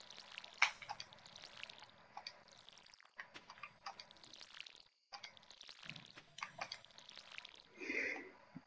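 Watering crops in Stardew Valley produces faint, repeated splashing pours with soft ticks between them, quiet and intermittent.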